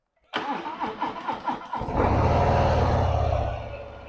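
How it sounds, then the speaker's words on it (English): A motorcycle engine cranks with a series of loud, rhythmic chugs, then fires and settles into a steady, close idle that fades slightly at the end. "So go up to your bike, let it prime, fire up."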